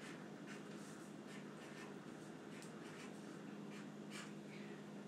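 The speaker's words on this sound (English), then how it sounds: "I'm going to write happy on one side." Soft pen strokes scratching across a Valentine's Day craft card, a faint steady scratching in short bursts over a quiet background hum.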